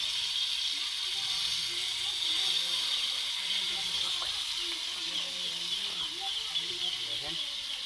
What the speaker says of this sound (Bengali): মাছ ভাজি, তালাপিয়া মাছ আনছিলাম, ভাজি করতেছি।